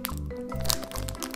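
A plastic packet of collectible toys is torn open close by, with sharp crinkling and crackling in a few quick bursts and a low hum beneath.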